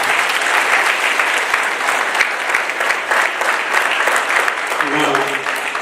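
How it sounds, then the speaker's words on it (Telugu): A seated audience at a public lecture gathering claps loudly and continuously, a dense, even roar of many hands that holds steady throughout, with a faint voice underneath near the end. "ఒకసారి వారి గట్టిగా చప్పట్లు కొట్టాలి"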